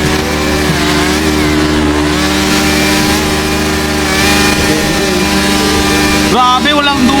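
Kawasaki KR150 two-stroke motorcycle racing in GTA V, a loud buzzing engine held at high revs with shifting pitch, joined near the end by another rising engine whine.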